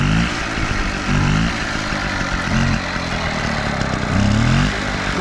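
A kick-started motorcycle engine fitted with a bigger silencer idles with a muffled, steady throb, rising into a few brief revs, close and fairly loud.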